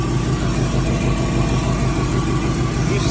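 A 1962 Chevrolet Impala engine with an exhaust leak idles steadily on a cold morning, a continuous close rumble with faint ticking texture and no talking over it.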